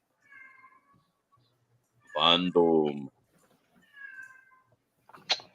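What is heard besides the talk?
cat meowing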